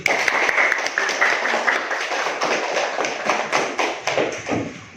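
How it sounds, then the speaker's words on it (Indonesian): Children in a classroom clap their hands for several seconds in a steady, busy patter that is fairly close and loud, and no voices come through. "Tepuk tangan dulu."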